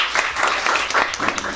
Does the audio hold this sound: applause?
yes